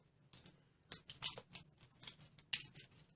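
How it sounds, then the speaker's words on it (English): Clingy plastic wrap is picked and peeled off makeup primer packaging, giving close, quiet crinkles and sharp crackling bursts in an irregular rhythm with no talking. "I'm trying to get all this plastic off."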